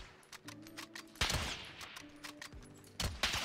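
Gunfire rings out in the video game Warzone during a solo night-mode match, several loud sharp shots at irregular intervals, some in quick pairs, over a quiet background with faint tonal game sounds.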